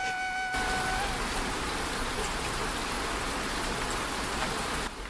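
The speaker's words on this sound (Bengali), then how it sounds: "এই বৃষ্টি কি আর থামবে না" Steady heavy rain pours on a village in a cartoon, a dense continuous hiss of drops filling the whole scene at an even, fairly loud level.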